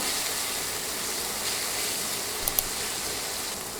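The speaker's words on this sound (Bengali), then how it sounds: "এবার নেড়ে গুঁড়া মশলাগুলো তেলে ভেজে নিব" Ground turmeric, chili and cumin frying in hot oil, giving a steady, even hiss that stays constant throughout, broken by one or two faint clicks.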